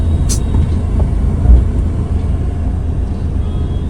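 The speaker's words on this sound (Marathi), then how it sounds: "बापरे, किती ट्रॅफिक आहे, माय गॉड." Heavy road traffic rumbles steadily from inside a car, with vehicles passing close by in a constant, loud drone.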